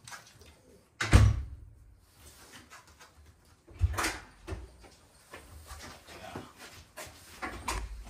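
A door pulled shut with a solid thump, followed a few seconds later by another knock and lighter rustling and clatter, close by in a quiet space.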